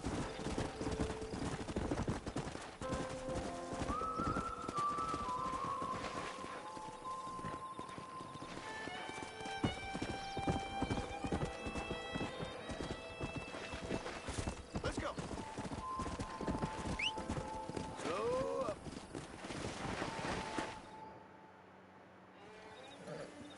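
Horses clip-clop steadily through a Red Dead Redemption game scene, hooves striking in a busy rhythm with several whinnies and neighs rising over them, alongside people talking and background game sounds that fall quiet near the end.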